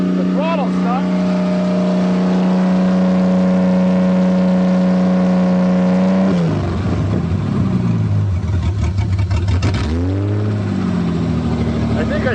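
An old Toyota car engine with a stuck throttle, long abandoned in a forest and running on old fuel, holds a loud steady high rev, then drops and surges again, close by, with excited voices talking over it.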